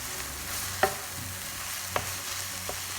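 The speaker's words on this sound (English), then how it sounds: "Give it a little stir." Saag aloo, potatoes with spinach, is stirred in a pan over a soft steady sizzle, with a few distinct spoon scrapes and knocks against the pan, close and fairly quiet.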